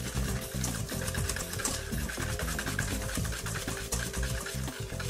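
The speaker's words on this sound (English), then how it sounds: "You have to give it a whisk." Eggs and sugar whisked in a bowl for a pecan pie filling, a fast continuous rhythmic clatter of the whisk against the bowl, close and moderately quiet.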